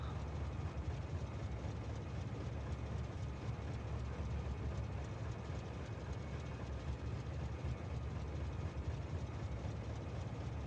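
A train in the factory-building game Factorio rumbles steadily with a low, continuous engine and rolling drone, fairly faint and unbroken, with no talking.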